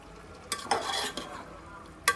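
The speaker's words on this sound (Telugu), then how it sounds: "ఇప్పుడు ½ గ్లాస్ వాటర్ వేసుకుంటున్నాను ఫ్రెండ్స్" Water goes into chicken masala cooking in a pot for Nellore-style chicken biryani, followed by a few soft stirring scrapes and a faint sizzle. The sounds are close and quiet, with no talking.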